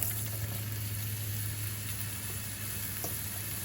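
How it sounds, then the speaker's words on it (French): Onions hiss and sizzle in olive oil in a pan, making a steady, close broadband frying sound throughout with a low hum beneath it, while shrimp noodles are being stir-fried. "on va rajouter un petit peu d'huile d'olive et on va mettre les oignons"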